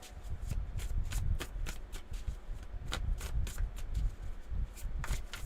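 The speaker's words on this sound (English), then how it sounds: "You'd think I've never shuffled a deck of cards before." Tarot cards being shuffled, giving a steady run of crisp riffling flutters and soft slaps that repeat through the whole stretch at close range, with no talking over them.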